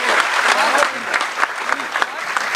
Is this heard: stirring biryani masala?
no